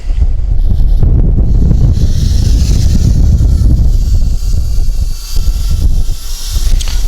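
A Parrot Bebop 2 quadcopter drone takes off, its whirring rotors loud and steady close by, mixed with heavy wind rumble on the microphone.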